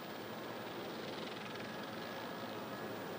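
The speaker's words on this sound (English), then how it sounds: "That's the tires burning out there." JetBlue airliner with faulty landing gear rolling out on the runway after touchdown, its tires burning and scraping, heard as a steady, dense, loud roar without pauses.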